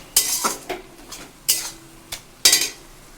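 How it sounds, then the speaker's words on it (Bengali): Cutlery scraping and clattering against a pan while data shak leafy greens are stirred, several sharp metallic scrapes and knocks in an irregular rhythm, close and fairly loud, with no talking. "এবার আবার নাড়াচাড়ার পালা"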